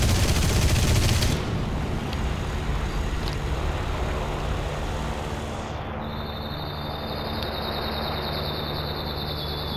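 Aircraft gunfire in the air-combat game War Thunder, a dense sustained burst roaring loud at first and then easing into a steady engine drone with a high whine entering midway; no talk.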